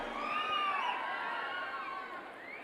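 Audience cheering and clapping at a film trailer launch event for Idli Kadai, a dense, fairly distant crowd noise sustained throughout with no single voice standing out.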